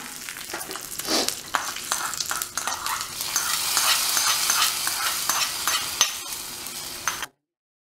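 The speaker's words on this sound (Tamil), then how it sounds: "கடுகு இப்போ நல்லா பொரிஞ்சிருச்சு ஒரு வரமிளகாம் கருவேப்பிலை" Mustard seeds, dried chili and curry leaves fry in hot oil, a close crackling sizzle with stirring scrapes that swells mid-way, then cuts off abruptly; nobody speaks.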